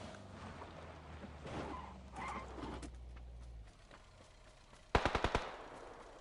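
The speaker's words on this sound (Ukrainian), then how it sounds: "Все, вони стріляються." A short burst of rapid gunfire near the end, five or six quick sharp shots, after a stretch of muffled game sounds and a low engine rumble.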